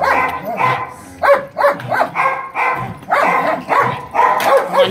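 A mixed-breed dog in training barks repeatedly and loudly up close, short sharp barks in quick bursts with brief gaps, some turning into yips and whimpers.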